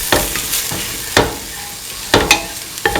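Garam masala being mixed into a frying ivy gourd, green pea and coconut milk stew: loud, close spoon strokes and scrapes over a constant sizzle, with several sharp knocks against the pan.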